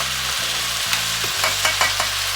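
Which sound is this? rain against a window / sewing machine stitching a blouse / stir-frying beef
stir-frying beef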